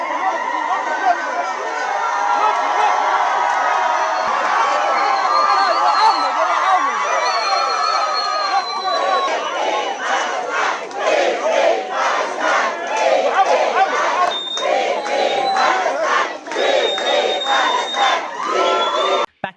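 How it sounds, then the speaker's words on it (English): Large crowd of activists and supporters chanting and cheering in an airport terminal in Tunis, a loud, continuous roar of many voices with rhythmic shouted bursts and clapping in the latter half, echoing under the high ceiling. "Chants of "Free Palestine" and applause echoed through the terminal as the activists appeared."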